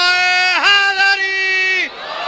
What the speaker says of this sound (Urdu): اچھا بول کے، ہاتھ کھول کے، مل کے بولو نعرہ